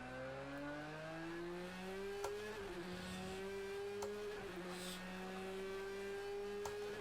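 A powerful Porsche race car engine in the Project CARS 2 racing game revs steadily upward through the gears, with brief shifts and dips in pitch, heard loud and alone.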